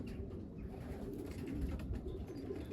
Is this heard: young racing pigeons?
yes